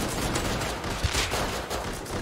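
Revolver gunshots from the survival game Rust, crackling through a dense, noisy in-game battle mix, with one sharper shot standing out partway through amid continuous background din.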